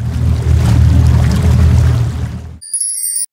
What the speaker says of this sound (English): Motor boat.